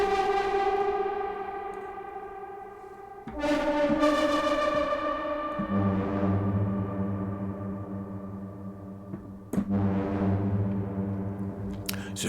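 The Angels patch of a virtual instrument, with reverb and distortion, swells through sustained choral chords that change several times, each thick and gritty with long echoing tails and no voices.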